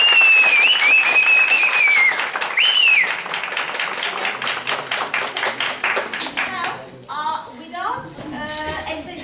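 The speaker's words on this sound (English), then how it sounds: "I'll again let you applaud" Student debate audience clapping in a classroom setting, a loud ragged round of hands that thins into scattered individual claps, with a high tone and voices heard alongside.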